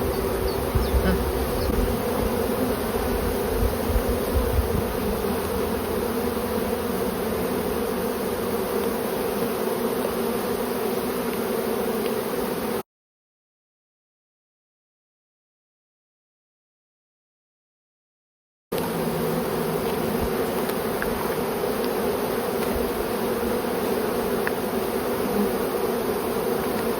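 Dense, steady droning buzz of many honeybees close by during a hive inspection, continuous apart from a stretch of total silence in the middle.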